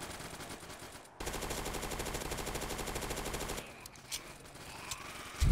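A video game gun fires in one sustained rapid burst of closely spaced shots for about two and a half seconds, loud and close, followed by quieter scattered game sounds.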